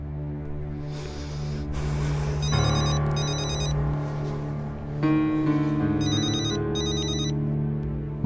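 A phone ringtone plays loudly, a bright electronic melody with repeating chirpy bursts that pauses and then starts again.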